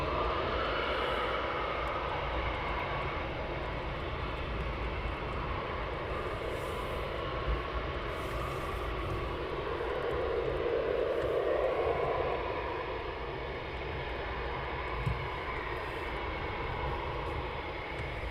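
A Eurofighter Typhoon jet taxis toward Runway 25 at RAF Coningsby, its engines giving a steady, loud, rushing whine that holds evenly throughout and swells slightly near the middle.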